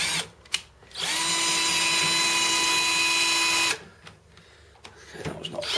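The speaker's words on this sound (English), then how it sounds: "And I'll just finish it off with the drill." A power drill drives bolts into a guest bed frame, one sustained whine of about three seconds close by, set between quieter handling noises and brief knocks.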